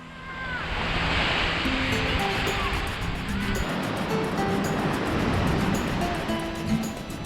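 Sea waves wash steadily onto the beach at Santa Ponsa, Mallorca, a continuous loud surf roar with some wind across the microphone, carrying on for the whole stretch with no clear speech.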